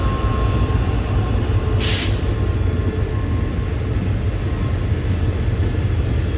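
An express train leaving a railway yard in Bangkok, Thailand rumbles steadily and loudly at close range, a continuous heavy drone of rolling wheels and engine with no voices.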